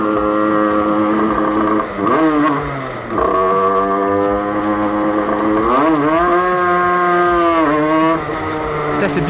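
A 50cc moped engine with a reed-valve intake, apparently an Aprilia SX, revs hard and close by in several rising and falling pulls with a buzzy, high-pitched two-stroke whine and no pause between them.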